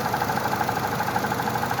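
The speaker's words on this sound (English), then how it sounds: "Okay, motor runs smooth, but it does have a little bit of a top end tap to it." A 2008 Nissan Sentra engine idling, a steady close hum with an even rhythmic pulse throughout, with a slight top end tap, no voices over it.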